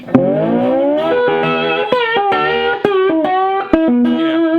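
Distorted electric guitar on a humbucker switched to parallel mode plays a short riff of bent and sliding notes, bright and clear, loud and alone.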